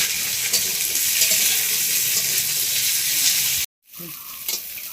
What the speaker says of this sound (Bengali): 5 মিনিট মতো ভেজে নিয়েছি আমি এগুলো, ডাঁটা আর আলুটাকে।